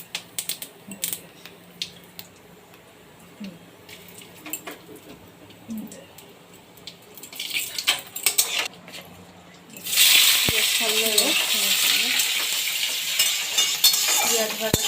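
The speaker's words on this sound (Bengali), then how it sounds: "পেঁয়াজ ভাজা চলছে এখন" Onions fry in a pan with dried chillies, cumin seeds and whole garam masala: light clinks and scrapes of stirring at first, then a loud, steady sizzle suddenly takes over and continues to the end.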